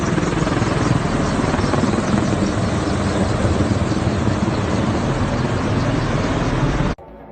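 A civil helicopter flies with a loud, steady rotor and engine roar that holds constant, then cuts off abruptly near the end, with no speech.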